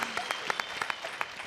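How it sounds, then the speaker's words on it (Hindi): Studio audience on a televised dance competition show claps in quick, sharp bursts, a brief burst of applause heard fairly faintly at a distance. "तो फिर से एक बार जोरदार तालियां।"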